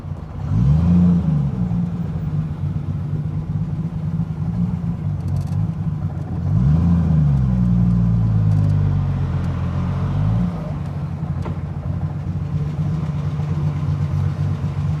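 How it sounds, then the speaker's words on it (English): A Triumph GT6 Mk2 six-cylinder engine rumbles inside a tunnel, a loud continuous drone with two clear revving swells rising and falling early on, then settling into a steady low hum with no talk. "in this tunnel you can hear the rumble of the engine. It's a 6-cylinder engine, by the way."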